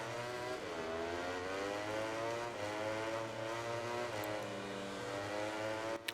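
Motorcycle in the MotoGP19 video game on the Nintendo Switch, accelerating away from the race start at Laguna Seca: a quiet, continuous engine whine that climbs in pitch through several gear changes, with other bikes droning behind it.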